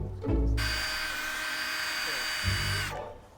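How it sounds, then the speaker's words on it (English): Fine sandpaper grinds discoloured paint on a car body. A steady, close, high-pitched whirring hum rises abruptly, holds for about two and a half seconds, then cuts off. "I use finer and finer papers to grind away the discoloration."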